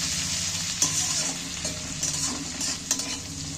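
Chopped ginger and green chilli sizzle steadily in a hot pan while a spoon stirs them, with occasional sharp scrapes and taps of the spoon against the metal over the constant hiss.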